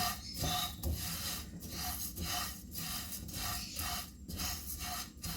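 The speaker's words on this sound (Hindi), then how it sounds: "ये मैं कप से ज़्यादा पीस रही हूँ, भून के पीसूंगी।" Roasted spices being ground into masala powder give a steady, rhythmic rasping, with repeated scraping strokes about every half second, close and fairly quiet, with no talk.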